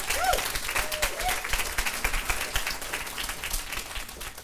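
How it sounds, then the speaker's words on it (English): An audience at a travel trade show's bloggers session applauds a presenter with steady, moderately loud clapping that carries across the whole stretch, with a faint voice briefly audible near the start. "round of applause for Janice, please."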